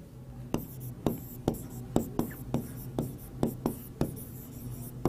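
A pen writes by hand on paper in a quick run of close scratchy strokes, about a dozen in a steady rhythm, soft and near, with no talking over them.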